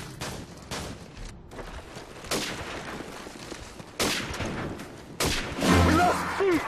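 Gunfire in Call of Duty 4 multiplayer, with bursts of rapid shots and a few louder cracks spaced through the clip, some distant and some close.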